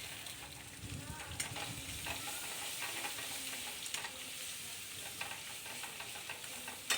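Spice paste with cashew paste fries and is stirred in a pan, giving a steady, dense sizzle with scraping stirs and faint clinks running throughout, fairly soft and close.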